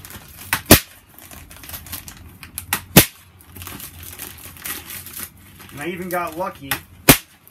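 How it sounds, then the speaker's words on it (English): A staple gun fires sharp, loud single snaps at irregular intervals while a batt insulation vapor barrier is stapled to wall studs in a bedroom rehab, with crinkling paper between shots and someone talking briefly. "Now I'm just going to staple this along the sides here, folding it over, making sure that I get a nice vapor barrier."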